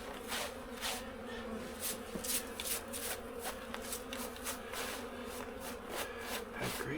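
Honeybees hum steadily around a beekeeper's first hive, a dense, continuous buzz close by with individual insects flitting past, and no one talks.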